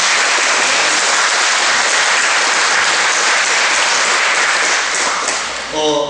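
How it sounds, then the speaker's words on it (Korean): Steady, dense applause from a church congregation fills the whole stretch, loud and unbroken, then thins slightly near the end. "다시 하나님께 우리 영광의 박수 올려드립니다."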